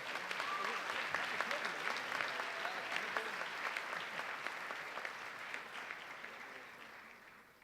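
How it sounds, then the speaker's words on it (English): A large audience at a medical school white coat ceremony gives sustained applause, a dense, even clatter of many hands that fades gradually toward the end, with a voice faintly heard beneath it. "And a last round of applause for the Seneca Learning Community students."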